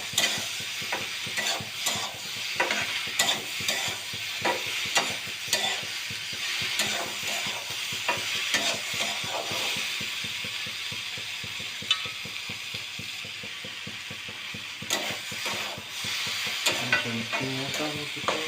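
Tomatoes and eggs fry in a pan under steady stirring: a continuous close sizzle broken by quick regular scrapes and clacks of the spatula, keeping a busy rhythm throughout, with no talking.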